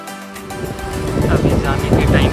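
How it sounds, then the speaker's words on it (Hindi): High ocean waves and gusting wind at a Goa beach in cloudy pre-rain weather, a rising rumble of surf and wind noise buffeting the microphone, with someone talking over it. "वेव्स थोड़ा सा हाई है,"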